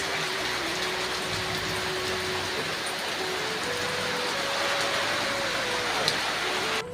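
Rain falling as a steady, fairly faint wash of broadband hiss, with a thin continuous hum running underneath and no voices.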